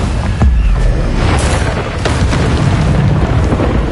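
A Confringo fire spell explodes in Hogwarts Legacy with a loud, deep boom and a rumbling burst that lingers and rolls on for several seconds.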